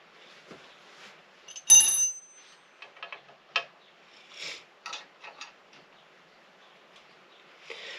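A loose oil pipe on a 1928 Velocette OHC motorcycle rattles and taps in its hole in sparse, irregular clicks, with one sharper metallic ping standing out early; otherwise quiet.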